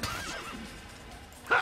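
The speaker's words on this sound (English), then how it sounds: "You killed my horse!" A horse neighs with a wavering whinny in the Assassin's Creed video game, fading into quieter game ambience before a loud, sharp burst at the very end.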